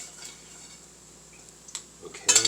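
A spoon scooping lasagna meat filling out of a pan: quiet at first, then a few light scrapes and a louder clatter of metal against the pan at the end, close by.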